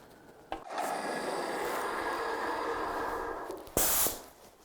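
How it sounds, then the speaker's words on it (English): An airless paint sprayer cycles very thin, watery paint through its system, giving a steady close hiss that runs for several seconds and then ends in a brief louder burst. "with this sprayer, I'm just gonna cycle it through a few times"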